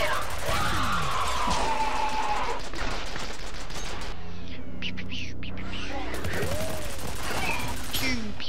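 Automated gun turrets firing in FEAR, rapid sustained bursts of gunfire filling the space, with a brief lull midway before the clatter resumes under mechanical whirs and game effects.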